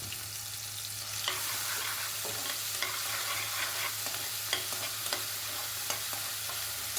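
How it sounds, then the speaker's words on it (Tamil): Onion-tomato paste with shallots and curry leaves sautéing in a pan, a steady soft sizzle broken by repeated scraping stirs of a spoon, close and fairly quiet with no voices. "வெங்காயம் தக்காளி பேஸ்ட் அரைச்சி வச்சோம் இல்லையா, அதையுமே சேர்த்து நல்லா வதக்கி விட்டுருங்க"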